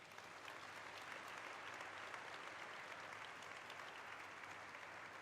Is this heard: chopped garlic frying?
no